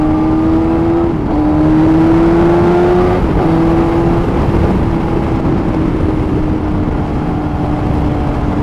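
A 2010 Yamaha FZ1-N motorcycle with a 998cc engine is ridden, its engine a steady loud drone with a brief dip and shift in pitch early on, then holding a constant note with no talking.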